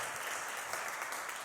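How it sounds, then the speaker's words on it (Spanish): Church congregation applauding during a Spanish-language service, a brief, fairly faint burst of dense clapping lasting about a second and a half. "Demos un aplauso a Dios."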